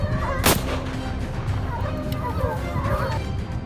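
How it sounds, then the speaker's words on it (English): A sharp, loud gunshot cracks early on during a wild boar hunt, with another fainter shot later, over a busy, noisy background with distant chatter and bird calls. "The sound of gunfire echoed relentlessly."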